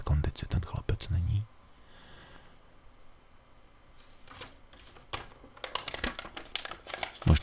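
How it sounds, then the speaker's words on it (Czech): Soft crinkling and crumpling of a paper of lecture notes in a speaker's hands, close and quiet, with brief murmured voices at the start and end. "ve svých rukách žumulá papír, na kterém má text připravované přednášky"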